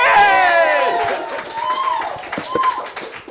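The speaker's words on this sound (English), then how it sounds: "Clap like you mean it." A workshop audience bursts into energetic clapping with whoops and cheers, loud at first and tapering as scattered claps and excited shouts continue.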